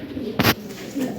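A big-sized pair of Lahori Sirazi pigeons, male and female, coo close by in a brief soft throaty burst, followed by a fainter murmur, with someone talking around them.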